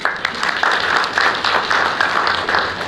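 An audience at a cultural founding-anniversary ceremony applauds an honoree, a dense, close, sustained round of clapping that pulses slightly in strength throughout.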